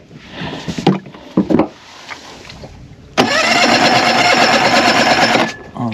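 Small outboard engine on a dinghy being pull-started on a cold morning, a few sputtering tugs and coughs first, then the motor catches and runs loud and steady for a couple of seconds before dropping off.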